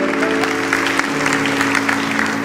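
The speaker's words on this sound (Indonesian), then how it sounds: "Berikan tepuk tangan untuk Roh Kudus yang berbicara kepada kita" Congregation applauding during a church sermon, steady dense clapping from many hands filling the room without pause, with a sustained organ or keyboard tone underneath.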